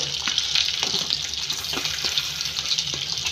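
Crab pieces and freshly ground masala roast in a pan for crab sambar, giving a steady, close, bright sizzle with faint scrapes and taps of stirring throughout.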